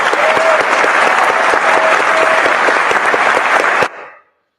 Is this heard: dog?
no